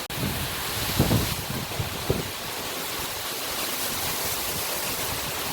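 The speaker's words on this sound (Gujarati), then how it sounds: "વરસાદ આવવા માંડ્યો છે બહુ જ" Heavy rain pours down at a village shrine, a dense, even rushing hiss that fills the air throughout, close and loud, with a couple of soft knocks early on and no talking.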